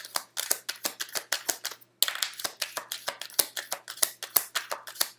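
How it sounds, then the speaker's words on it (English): A deck of tarot cards is shuffled by hand, with crisp, close riffling bursts repeating in a quick steady rhythm and a short pause partway through. "One more shuffle here."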